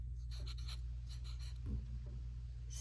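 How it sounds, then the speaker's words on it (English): A hand writes a word on a surface, quiet scratchy strokes in short bursts over a low steady hum, close up and faint, with no talking. "So then I'll write the word so you can write it too."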